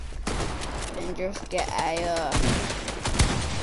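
Rapid automatic gunfire sprays in an online shooter game, steady dense bursts running throughout under a player's excited talk, with a sharper shot near the end.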